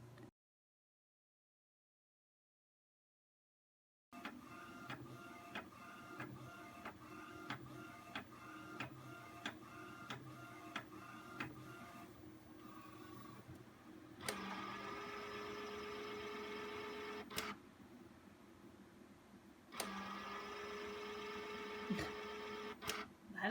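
After a brief silence, an Epson P600 inkjet photo printer whirs and clicks in a steady rhythmic pattern, with carriage passes and mechanical shifts, close and moderately loud.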